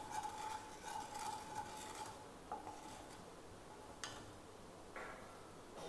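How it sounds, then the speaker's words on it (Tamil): Paneer fry mixture being stirred in a pan, with soft, steady scraping and light clinks of a utensil against the pan's side, plus a faint sizzle and a few sharper taps, fairly quiet and close, without talk. "இப்போ இதை வந்து நல்லா மிக்ஸ் பண்ணிக்கலாம்."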